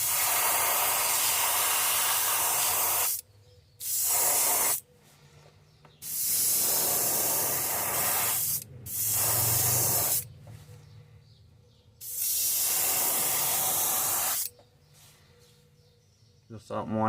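Spray paint hissing in repeated bursts as a pattern is laid onto a handmade fishing bait, each steady hiss lasting one to three seconds with short pauses between, close and loud with no talking.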